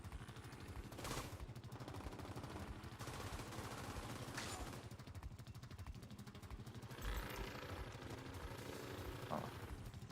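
Bursts of automatic gunfire and scattered shots crackle through a firefight in The Division 2, layered over a constant mechanical background, fairly faint and with no voices.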